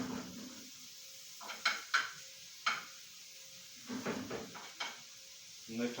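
Ingredients refried in a pan for tuna croquettes, a soft steady sizzle with several clinks and scrapes of a utensil against the pan, close by and fairly quiet.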